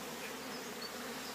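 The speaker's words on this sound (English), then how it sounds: "There's still plenty of bees in there." Honey bees in a hive buzz as a dense, continuous drone, steady and close throughout the short stretch with no pauses or voices.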